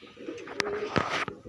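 Pigeons, including wild pigeons, gather to feed, giving soft coos and sharp call-like bursts in a short run of separate notes at moderate distance, with light background rustle.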